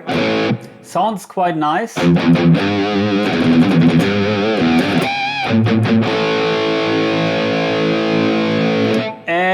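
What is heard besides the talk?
electric guitar through NUX MG-30 effects with reverb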